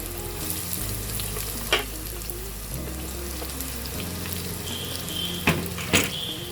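Chopped onions frying in hot oil in a pan for an Odia cabbage and peanut stir-fry, giving a steady loud sizzle with a few sharp utensil clinks and scrapes near the end.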